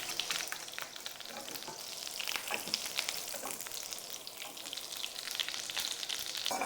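Butter sizzles and browns in a frying pan ahead of scrambled eggs, a steady close crackling hiss with dense popping that runs evenly throughout and has no talking over it.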